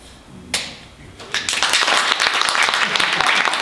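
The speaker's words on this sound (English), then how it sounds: "as Jeb Bush says, please clap" Audience applause breaks out at a literary reading night at a bookstore, starting with a single sharp clap, then swelling after about a second into sustained, dense clapping from a small crowd, fairly close and steady.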